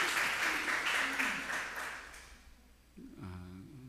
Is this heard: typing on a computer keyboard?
no